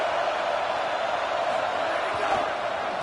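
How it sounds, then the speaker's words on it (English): A home crowd roars at a Washington versus Nebraska college football game, a dense, sustained wall of distant noise with no break. "Now this home crowd making life difficult."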